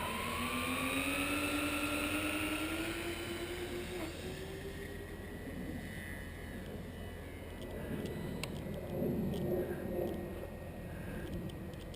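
An electric R/C model plane motor, a Killer Planes JPower P-, spins up outdoors at an airfield, its whine rising steadily in pitch over a few seconds before settling into a sustained buzz, with wind noise underneath.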